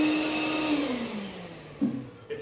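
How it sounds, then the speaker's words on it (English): A Dewalt Flexvolt cordless vacuum extractor runs with a steady, fairly quiet whine that slowly drops in pitch as it winds down, followed by a couple of short clicks or bumps near the end, with no voices. "it's pretty quiet, it's got plenty of suction for a small cordless vacuum"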